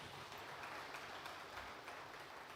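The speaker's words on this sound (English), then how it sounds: "Give them a round of applause." Conference audience applauding the Walter Smith Group, a continuous soft patter of many hands from a sizeable crowd, distant and low in level, steady for the whole stretch without talk.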